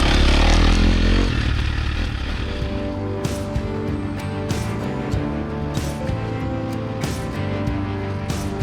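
A dirt bike runs a cross-country practice lap, its engine a steady loud drone with occasional revs, plus rattles and sharp knocks from rough ground. Loud wind rush fills the opening second.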